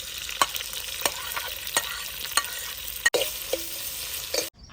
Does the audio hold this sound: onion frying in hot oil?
yes